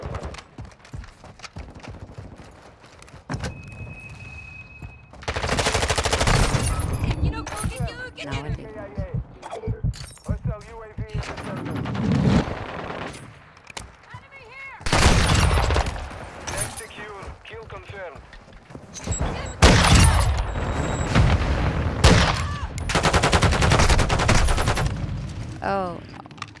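Multiplayer gunfire rings out in Call of Duty: Modern Warfare 2 during sniping play, with loud bursts and rattling volleys in repeated waves, mixed with frequent talking over the action.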